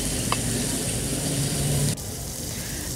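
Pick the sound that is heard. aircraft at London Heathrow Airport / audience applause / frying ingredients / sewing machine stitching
frying ingredients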